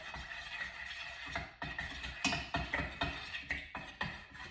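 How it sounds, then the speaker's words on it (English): Utensil stirring melted wax mixed with fragrance oil in a container, soft rhythmic scraping strokes repeating steadily, faint and close, with no voices. "Stir it up."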